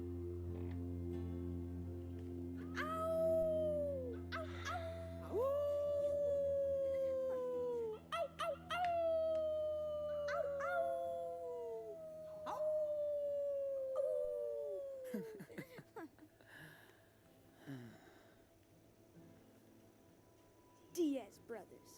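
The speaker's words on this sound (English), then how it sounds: "their wolf howling is way more annoying than Hella and Wowzers." Wolf howling in the video game Life is Strange 2: a series of long, wavering, falling howls repeats one after another, loud and close, with people talking over and between them.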